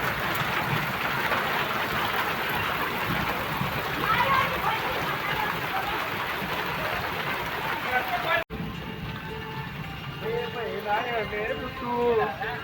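Heavy, fast rain pours down in a steady broadband roar for most of the stretch, then a person talks over the continuing downpour after a brief cut.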